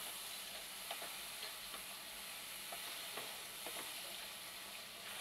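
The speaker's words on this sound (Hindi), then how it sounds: "टमाटर के थोड़ा सा सॉफ्ट हो जाने तक हम इसको फ्राई कर लेंगे" Tomatoes fry in masala over a high flame for aloo bharta, a faint, even hissing sizzle with a few soft stirring taps spaced through it, quiet and distant, with no voices.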